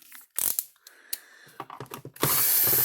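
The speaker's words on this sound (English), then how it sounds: "we'll pull these 4 screws out" A screwdriver backs screws out of the case of a Stafix X6i or Speedrite 6000i electric fence energizer, making a few sharp ratcheting clicks and scraping bursts, close up, ending in a louder grinding rattle.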